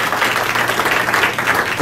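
Comedy club crowd applauding, a short burst of dense, fairly loud clapping mixed with voices.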